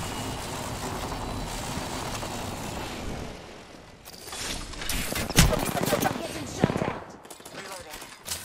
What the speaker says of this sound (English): Everyone's already shooting at me.